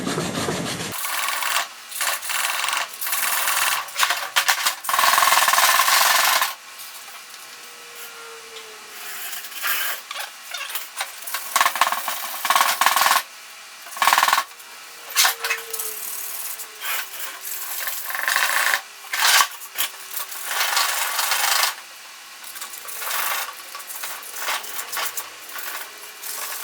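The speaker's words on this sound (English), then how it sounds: "Decided I would just use sandpaper and Scotch-Brite" Hand sanding with sandpaper and Scotch-Brite during a transmission swap, a close scratchy rubbing that comes in repeated strokes and bursts separated by short pauses.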